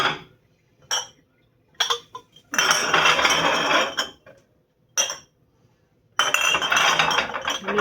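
Glass canning jars clink and rattle in short bursts, then in longer clattering runs, as they are loaded onto the rack inside a microwave, close and fairly loud with quiet gaps between.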